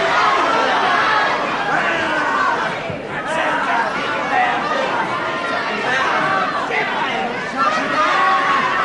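A packed crowd at a 1978 wrestling match in the Hamilton District Pavilion, a loud continuous roar of chatter and shouting that fills the hall from start to finish.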